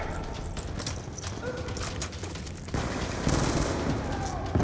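Weapon fire in Call of Duty: Black Ops 2, a steady rattle of game gunshots running throughout, growing louder partway through, with faint talk beneath.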